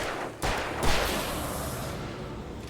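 Gunfire in the survival horror game Alan Wake Remastered, a couple of sharp loud bangs close together followed by a lingering noisy tail, with no talking.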